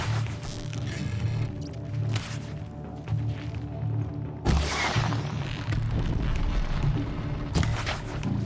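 Gunfire and heavy impacts in the video game Horizon Zero Dawn, sharp bangs and booming hits over a low rumbling soundscape, with a loud burst near the middle and another toward the end.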